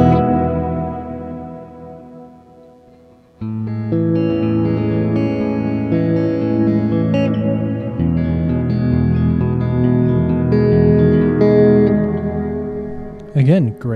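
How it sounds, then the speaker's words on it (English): Walrus Audio Slö reverb pedal in Dream mode, with a guitar's chords swelling into a wide, lush wash of reverb. The playing is steady and loud, and the tails ring on after each chord. "Again, great sounding reverb."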